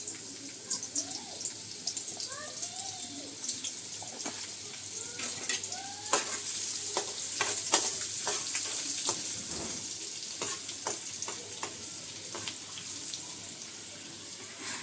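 Garlic and asafoetida sizzle in hot oil for a Konkani clam curry, a steady bright frying hiss with scattered crackles and a few spoon clinks, quiet and close, with faint talk in the background.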